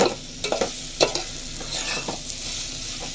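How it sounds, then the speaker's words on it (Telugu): Chili powder and turmeric are stirred into sambar in a pan, giving a few soft scraping strokes of a spoon against the metal over a faint steady sizzle, close and quiet with no talking. "కారము, పసుపు ఇవన్నీ దీనికి పట్టేలాగా ఒకసారి కలుపుకుందాము."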